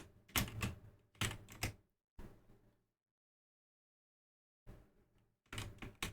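A computer keyboard is typed on in short clattering bursts of rapid keystrokes, then falls silent for about two seconds before more bursts resume.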